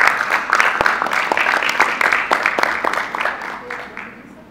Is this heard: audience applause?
yes